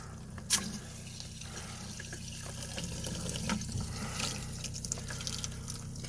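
Water running from the outside shower of a fifth-wheel RV during winterizing, a faint low-pressure trickle and drip with a sputtering splash near the start, no talking.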